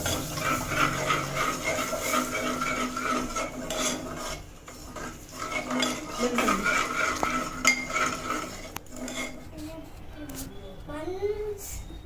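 Spoon scraping and stirring a flour and milk mixture in a pan at home, rasping and clinking steadily while a person talks over it.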